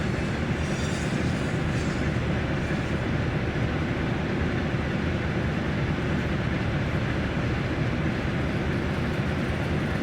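A Stadler train rolls along the rails in a Peninsula Corridor train simulator game, giving a steady, loud, continuous rumble of wheels and motors with no breaks throughout.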